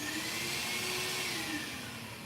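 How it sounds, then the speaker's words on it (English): A vacuum cleaner running during car detailing, making a loud, steady, close-up whine and roar with a faint shift in pitch and no pause. "So I'm just going to do a quick vacuum to this."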